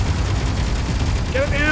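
Gunfire in the Space Engineers video game during hardcore survival play, a dense low rumbling barrage of shots that runs throughout, with a voice breaking in near the end.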